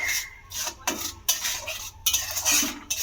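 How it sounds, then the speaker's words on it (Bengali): A spoon stirs salt into pointed gourd curry in a pan, giving a few close scraping strokes and soft metal clinks against the pan over a faint sizzle, with no talk. "লবণটাকেও দিয়ে খুব সুন্দর করে মিশিয়ে নিলাম।"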